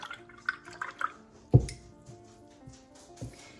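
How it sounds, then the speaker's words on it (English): A paintbrush is rinsed in a water cup while painting mountains, giving soft close swishes and drips and one louder splashy knock in the middle, with no talk. "Now I'm going to take my paintbrush and I'm going to wash it off."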